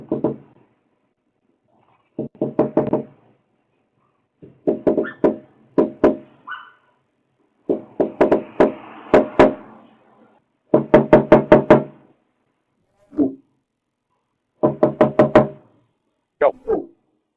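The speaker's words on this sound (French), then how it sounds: "L'homme a frappé plusieurs fois à la porte et a été filmé par la sonnette Ring du" A man raps repeatedly on a house's front door in bursts of sharp, hard knocks, several quick blows per burst with pauses between, captured close and loud by a Ring doorbell camera.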